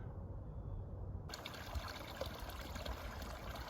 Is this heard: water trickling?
yes